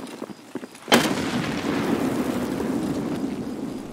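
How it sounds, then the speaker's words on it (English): A single sharp grenade blast in Escape from Tarkov, sudden and loud after a few quiet clicks, then a long rumbling decay that fades slowly. "I chuck a grenade to cause the scavs to run"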